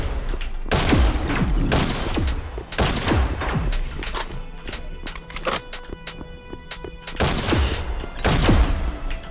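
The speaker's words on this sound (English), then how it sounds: "It fires massive bolts and it just kills things very quickly." A video game weapon fires massive bolts in rapid bursts, heavy booming shots and impacts crowding together in loud volleys with short gaps, and no voices over them.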